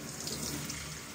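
Water pours in a soft, steady stream over a houseplant during a night-time shower, a continuous quiet hiss with no breaks.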